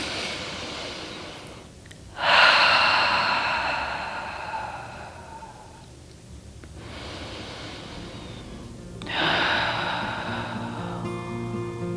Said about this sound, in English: start out with some cleansing breaths, inhaling through the nose and exhaling through the mouth